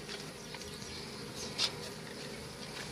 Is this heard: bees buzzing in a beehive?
yes